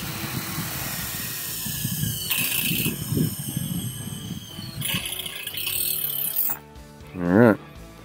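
Screws are tightened on high tunnel rafters with a ratcheting tool, giving a continuous run of close, rapid mechanical clicking and whirring that swells and drops, ending in a brief louder squeal.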